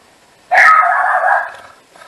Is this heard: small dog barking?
yes